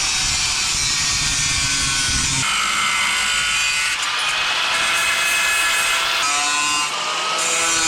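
Power tool grinding and cutting away part of a car fender, a continuous loud, harsh high-pitched whine with shifting tone, close by and without talk.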